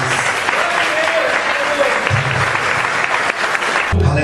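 A congregation applauds during a family worship service in a church, dense clapping filling the space, with murmured voices and faint shouts mixed underneath.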